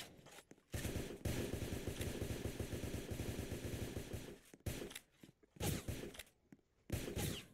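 Video-game gunfire crackles in long rapid automatic bursts, sustained for several seconds and then broken into shorter volleys with brief gaps, loud and close with no talking over it.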